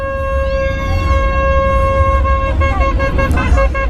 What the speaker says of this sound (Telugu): ఇది హార్న్ కొట్టరా తమ్ముడు.